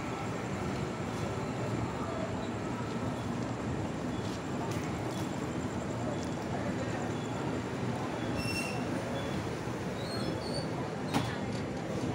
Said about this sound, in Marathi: फायनली आपली गाडी कर्जत स्टेशनवरून निघालेली आहे.